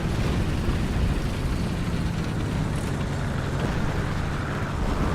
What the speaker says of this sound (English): Oh, he hears another plane